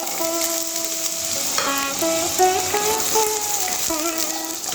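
Potatoes fry in oil with a whole bay leaf in a hot wok, giving a steady, fairly loud sizzle close by while a melodic tune plays over it.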